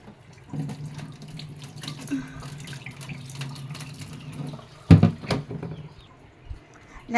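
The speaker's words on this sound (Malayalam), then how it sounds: "അതിൻ്റെ മേലത്തെ തൊലിയൊക്കെ പോയി ഒന്ന് കഴുകിയിട്ട് അരിച്ചെടുക്കണം" Horse gram being washed and strained in water under a running kitchen tap, a steady close stream with a louder splash and clatter near the middle.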